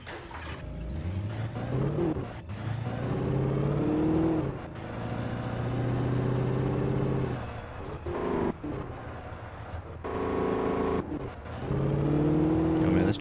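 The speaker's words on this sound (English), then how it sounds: "Oh man, this truck don't sound too good." Rough, labouring truck engine in the Alan Wake video game, revving up and down in repeated surges with short gaps between, fairly loud and close, with a voice talking over parts of it.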